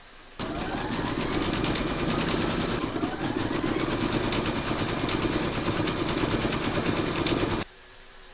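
An embroidery machine stitches a dark brown paw print outline onto a fabric coaster, its rapid, steady needle chatter running loud and unbroken for about seven seconds before cutting off.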